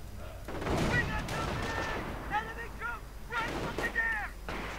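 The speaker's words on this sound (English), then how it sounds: "More sniper fire, in fact, tearing through these grenadiers right on the left-hand side." Sniper fire cutting through grenadiers in a WWII strategy video game, heard as several sharp cracks and booms spread across the clip under a steady battle din, with a voice talking throughout.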